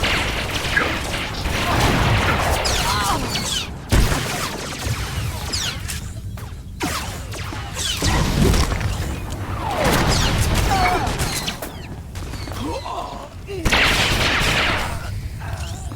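Blaster fire crackles through a Star Wars: The Old Republic battle, with repeated shots and impacts mixed with mechanical clanks and effects, in a dense, continuous combat soundscape.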